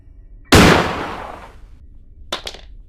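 A shotgun fires once in the video game Granny, a sharp, loud blast that fades over about a second, followed moments later by a brief cluster of mechanical clicks.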